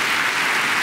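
A studio audience claps steadily and loudly throughout a televised religious program, the dense applause filling the whole moment with no voices above it.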